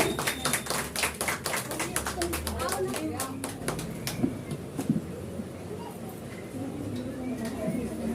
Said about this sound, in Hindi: जोरदार तालियां मैम के लिए